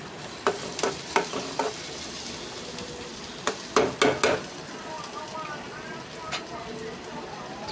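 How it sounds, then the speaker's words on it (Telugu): Green chilli pieces fry in oil with onion and tomato pieces, giving a steady sizzle broken by several sharp clacks of stirring. "పచ్చిమిరపకాయ ముక్కలు నూనెలో బాగా వేయించుకోవాలండి."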